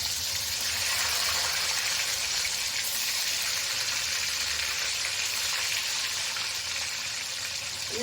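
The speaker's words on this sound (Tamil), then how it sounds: "எண்ணெய் சூடாக இருக்குது, கடுகு தான் போட்டுருக்கோம். அதனால இது தக்காளி மெதுவாக போடணும்." Tomato slid into hot oil with mustard seeds for a pickle, giving a steady broad hiss of frying that stays even and fairly quiet throughout, without speech.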